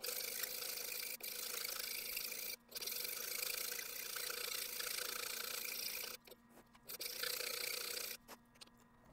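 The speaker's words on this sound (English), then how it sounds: "I switch to a less aggressive file and keep on keeping on." A metal file rasps across a forged blade in long, steady strokes, a close continuous scraping broken by brief pauses between passes.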